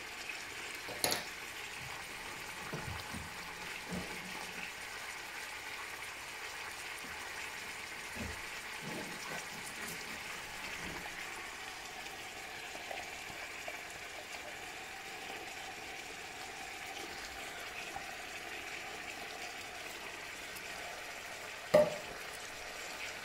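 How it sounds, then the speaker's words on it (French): Chopped tomatoes frying in a pot for couscous, a faint steady sizzle running throughout, with a few soft clinks of stirring and one sharper tap near the end. "Je rajoute à ça les 2 tomates hachées."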